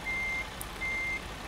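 A lorry sounds its reversing alarm while backing a trailer into place: two steady high beeps separated by a short gap, set over a low engine rumble.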